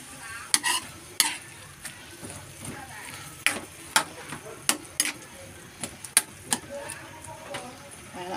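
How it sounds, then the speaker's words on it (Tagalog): String beans being stirred in a frying pan with a utensil, repeated sharp scraping and clinking strokes over a steady low sizzle, close and moderately loud, no talk. "lagyan na natin yung sitaw. At haluin natin. Haluin ng haluin."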